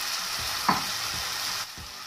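Green chilli and karonda (natal plum) pickle mixture with coriander powder, salt and spices being stirred in a pan, a steady close hiss with one brief scrape of the spoon, no voices.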